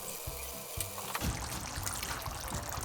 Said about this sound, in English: What we're gonna do is add some water.